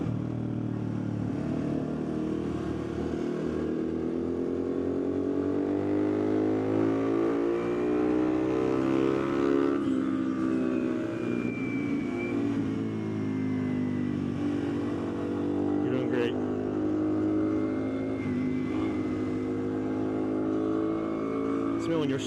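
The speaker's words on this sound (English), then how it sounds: "Watch him come around this curve here." A car speeds through a curve on the Tail of the Dragon mountain road, its engine note rising and falling as it revs through the bend, heard from nearby while people talk over it throughout.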